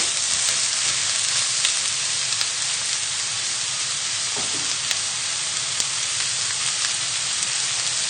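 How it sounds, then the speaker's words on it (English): Shallot, garlic and mushrooms hiss in a pan for a butternut squash and lentil stew, a steady bright sizzle with faint stirring ticks, heard close and without voices. "the shallot and the garlic. Give this a little stir around the pan."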